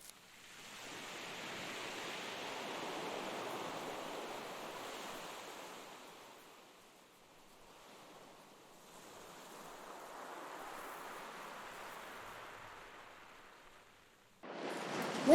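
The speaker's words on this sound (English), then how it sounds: "Listen to the sea." Ocean waves wash in a steady, soft roar of surf that swells and ebbs slowly, heard at a distance with a little wind, and no voices.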